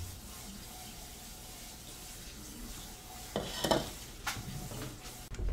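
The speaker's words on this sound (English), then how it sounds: "you want to run some cold water over it" Cold tap water runs steadily over cooked pasta in a sink, giving a constant wash with a few louder splashes and clatters toward the end.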